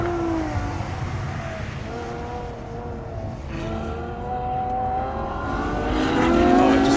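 A Ferrari F12 Berlinetta powers out of a corner on track, its engine note climbing steadily and growing louder as it accelerates hard, heard alone with a continuous rising roar.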